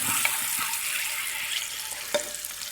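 Steady sizzle of scored boiled eggs frying in hot oil in a pan, with a few light pops and scraping stirs, close and continuous.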